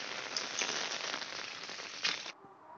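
Steady heavy monsoon rain during a storm pattering hard on a surface, dense and close, with a couple of louder splashes before it abruptly cuts to a quieter hiss.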